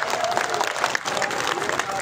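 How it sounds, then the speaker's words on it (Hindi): Audience at a Bharat Jodo Nyay Yatra rally claps steadily and densely in support, a continuous wash of applause mixed with crowd noise throughout. "हाथ उठाकर जोरदार तरीके से ताली बजाकर कहे समर्थन का ऐलान"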